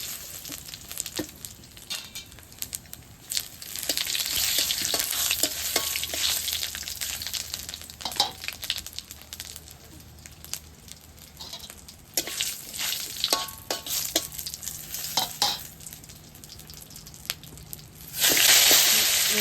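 Onion pieces and whole spices (dry chillies, bay leaf, cumin seeds) fry and sizzle in hot oil in a village kitchen, with steady crackling, stirring scrapes and clinks close by, and a louder burst of sizzle near the end.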